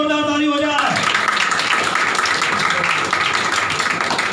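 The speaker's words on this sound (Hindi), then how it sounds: "जितने लोगों ने हाथ खड़ा किया है सभी के लिए एक जोरदार ताली हो जाए।" A classroom of students breaks into loud applause, a dense wash of many hands clapping together that follows a brief stretch of talk and carries on steadily to the end.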